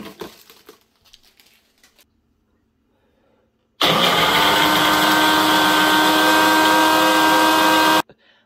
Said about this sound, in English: I am going to put them into a blender